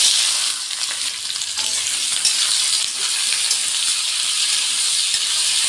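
Whole cumin, potato and chopped onion frying in hot oil give a loud, dense, continuous sizzle with soft stirring movements, close up and without talking.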